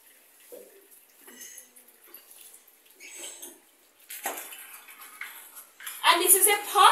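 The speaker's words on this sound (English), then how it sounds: "This is the cinnamon leaf. We are going to wash it." Cinnamon leaves washed by hand in a pot of water while making Blue Draws, with splashing and clattering that builds to a loud, busy rush near the end, under people talking.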